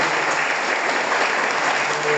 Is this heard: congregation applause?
yes